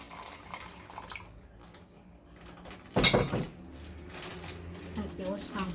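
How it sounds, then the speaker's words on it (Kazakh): Filtered drinking water poured into a plastic mayonnaise bucket while repotting houseplants, a short loud splashing burst near the middle, with someone talking throughout at close range. "кәдімгі өзіміздің ішіп жүрген фильтрованный судан құямын."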